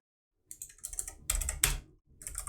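Code is typed on a computer keyboard in quick, close, fairly quiet bursts of key clicks, with a brief pause before a final flurry.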